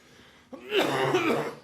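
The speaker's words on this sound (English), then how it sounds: "Hang on, I'm going to cough here again." A single harsh, throaty cough from a man close to the microphone, after a moment of quiet.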